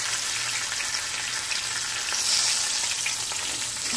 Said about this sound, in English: Now we're going to fry the other side for about 4 minutes.